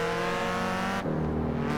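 Rally car cruising down a road in Forza Horizon 4 snow rally racing: a steady, sustained engine drone with constant tonal whine, close and continuous, pitch shifting slightly partway through.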